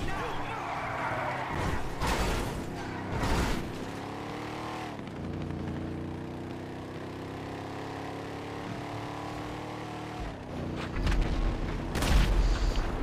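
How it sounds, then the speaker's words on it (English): Gunfire and heavy booming in the video game GTA V Online, with repeated loud bursts and impacts over a steady rumbling game soundscape, heard alongside vehicle engine noise and some voices. "Get ready for super gunfire."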